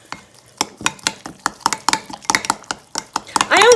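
A mixture stirred briskly in a bowl with a utensil: rapid, close, sharp clinking and scraping strokes in an uneven rhythm, fairly loud, ending with a brief louder noise, no talk.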